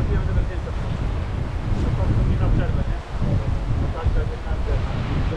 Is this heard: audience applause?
no